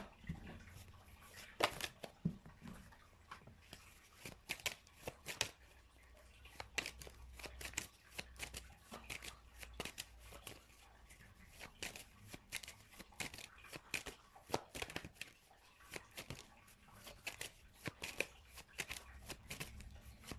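A tarot deck is shuffled over and over, a quiet stream of crisp flicks and riffling clicks that run close up for about twenty seconds.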